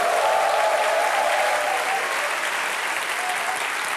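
A television studio audience applauds a firefighter, a sustained, even wash of clapping from many hands that holds steady throughout.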